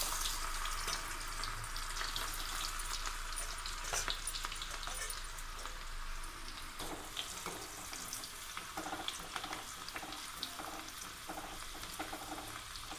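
Bitter gourd chips fry in hot oil with a soft continuous sizzle and bubbling, fairly quiet and even throughout, with occasional small stirring or scraping sounds.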